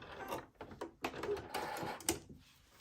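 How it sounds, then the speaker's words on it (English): A sewing machine back stitching at the end of a fabric strap for a bodice, heard as a close, soft run of rapid mechanical stitching with brief starts and stops, fairly quiet and with no voices. "you just want to back stitch"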